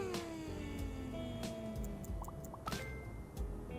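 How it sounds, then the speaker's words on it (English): A friendly cat gives a soft, drawn-out meow that slides downward, followed by a few faint short chirps and light clicks in a quiet room. "Okay, this kitty was okay with us petting it."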